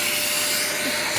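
A Bush multi cyclonic bagless cylinder vacuum cleaner runs steadily throughout, a close, continuous broadband whoosh with a faint motor whine and no pauses.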